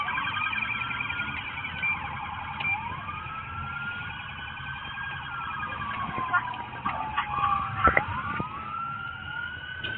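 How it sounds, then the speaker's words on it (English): An ambulance siren wails at moderate distance during the Las Vegas shooting response, its rising and falling tones overlapping other sirens amid street noise and brief radio chatter. "I don't know where that ambulance is going"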